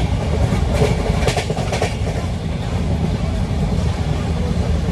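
The Pawan Express passenger train runs on rails with a steady loud rumble and clattering wheels, heard from on board, and a brief faint voice shows under the noise.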